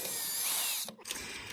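A power screwdriver drives a screw into wood for homemade candlesticks, a steady high whining buzz for almost a second, a brief stop, then the motor resumes.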